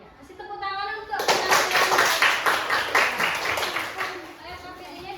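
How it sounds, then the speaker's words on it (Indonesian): A classroom group claps in uneven bursts of rapid slaps, close and fairly loud, starting after a brief spoken moment and continuing with voices mixed in. "kasih tepuk tangan untuk"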